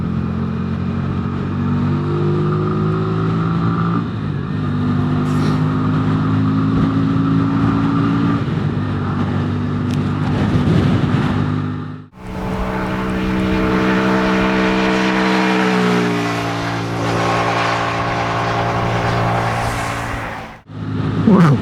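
A 2023 Keeway RKV125 motorcycle engine drones steadily with a harmonic exhaust note, briefly dropping and rising as the rider shifts gears, loud and close throughout.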